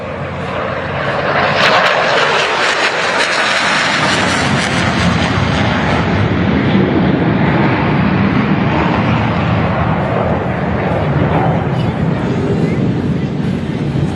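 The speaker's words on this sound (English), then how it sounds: "brings the F-35C in for a simulated carrier brake at 400 knots" An F-35C jet fighter at an air show passing at 400 knots in a simulated carrier break, a loud sustained roaring engine rising and holding steady, with an announcer talking underneath.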